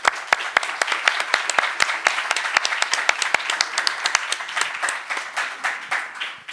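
An academic audience at a constitutional law lecture gives applause, sharp, distinct claps from a fairly small crowd in an irregular rhythm that gradually thins out, with a few voices underneath.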